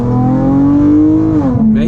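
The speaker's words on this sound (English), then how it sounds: "got this thing straight pipe. This thing is louder than a mug." Chrysler 300 with a straight-pipe exhaust accelerating: a loud, raw engine drone rising steadily in pitch, then dropping briefly as it shifts, heard close and continuous with no talking.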